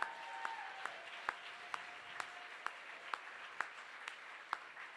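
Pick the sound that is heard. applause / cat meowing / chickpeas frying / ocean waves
applause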